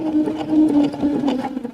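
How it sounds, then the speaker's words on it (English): A sewing machine hemming a T-shirt runs slowly and steadily, its motor whirring with a rapid, even needle chatter, close and clear with no talk. "I'm going to sew a little slow"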